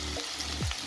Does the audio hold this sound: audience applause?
no